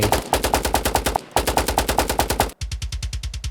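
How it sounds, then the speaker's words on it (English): Rapid machine-gun style gunfire effect from an album stem, layered with a low-passed kick drum for extra low end, fires in steady, punchy bursts with a brief gap before a tighter, drier run. "the kick drum, or rather the gunfire noise, just wasn't strong enough on its own"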